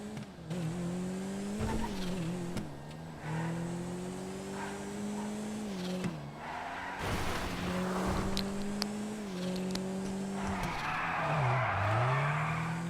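Car tires skid and squeal in a long slide in GTA 5 on a race track, a sustained wavering screech over a steady engine drone, rising and bending as the slide continues.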